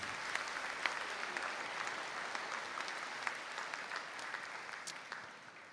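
Audience at a Donegal graduation conferring ceremony applauding graduates, a steady, moderately distant roll of many clapping hands with scattered sharper claps, gradually easing toward the end.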